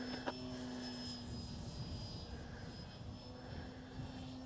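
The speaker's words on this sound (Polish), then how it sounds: "nie połowa gazu. Nie, połowa gazu. Tak, to jest połowa gazu." Propeller motor of a 3D-printed Eclipson RC airplane running at half throttle outdoors in wind, a steady whining drone with a sustained tonal hum, continuous and moderately distant, with no talking.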